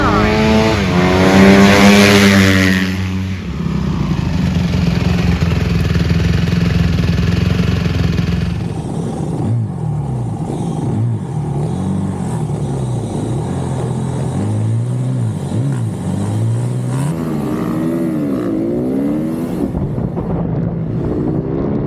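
Minibike pit bikes race past on a circuit at a championship round, loud buzzing engines rising and falling as they pass close, one strong pass early, then repeated revving and gear changes, with faint voices underneath.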